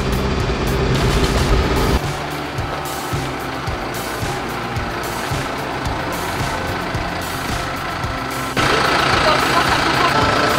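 Tractor engine running steadily on a Upper Silesian farm, a continuous mid-to-low rumble with an even throb that grows louder near the end, with some voices faintly in the background.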